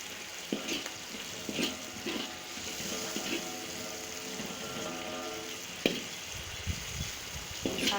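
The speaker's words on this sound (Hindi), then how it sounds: "जब हम मसाले को भूनते हैं, जैसे ही वो घी छोड़ता है" Masala for chana dal frying in ghee with crushed coriander, a continuous soft sizzle broken by repeated scraping and stirring clicks from a spoon in the pan, close and moderately loud.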